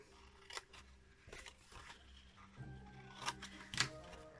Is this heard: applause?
no